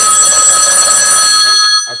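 A telephone rings loudly and steadily in a sustained electronic trill that stops near the end, with no talk over it.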